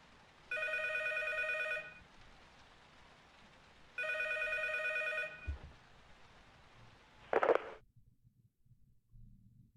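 A telephone rings twice with a bright electronic trill, each burst over a second long with a pause between, followed by a clunk as it is picked up; close and clear, no talking.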